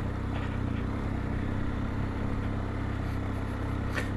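A motorcycle ridden through snow, its engine a steady, continuous low rumble that stays even throughout, with no breaks or talk.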